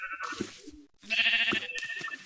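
Two or three sheep bleat in a Minecraft game, the wavering calls close and distinct, with brief gaps between them and no talking.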